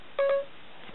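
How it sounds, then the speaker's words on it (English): Siri's activation chime on an iPhone sounds once as a brief, quiet two-tone beep, followed by near silence. "press home until Siri's noise pops up"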